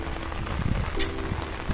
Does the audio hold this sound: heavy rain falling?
yes